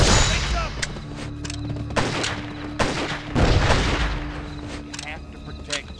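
Repeated gunfire in the Western video game Gun, a rapid series of sharp cracks and booming shots spread across several seconds, some close and loud, mixed with game sound and a voice speaking.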